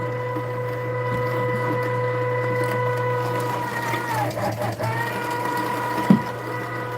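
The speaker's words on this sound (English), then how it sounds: "These quail are still a little bit frozen, but that never seems to affect grinding very much." A motorized meat grinder hums and whines steadily as it grinds slightly frozen whole quail for tegus. Its pitch dips under load near the middle, and a sharp knock comes near the end.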